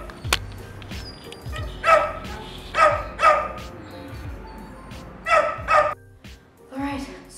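A dog barks in repeated pairs of sharp, fairly close barks, about four bursts spread through the stretch, with quieter yips and background noise between them.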